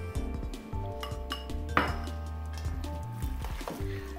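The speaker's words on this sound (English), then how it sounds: "Now for the final stir, hopefully." Potato salad gets a final stir in a bowl, with close clinks and scrapes of a utensil against the dish and soft squishy mixing sounds in an irregular rhythm.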